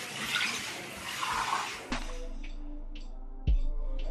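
Water splashes and rushes into a sink being washed out for a couple of seconds, then stops, followed by a few faint clatters and a sharp knock nearby.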